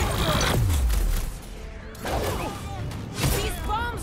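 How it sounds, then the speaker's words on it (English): Bombs blasting in Marvel's Guardians of the Galaxy on PS5: a dense run of crashing explosive bursts with a falling low rumble, a brief lull, then more booming impacts and debris clatter, loud and close amid game effects. "These bombs are making things way too crowded."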